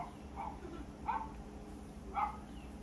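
A small, angry dog left alone barks in short bursts, three separate yaps spaced about a second apart, heard from a moderate distance over steady outdoor background noise on a family patio where corn is being grilled.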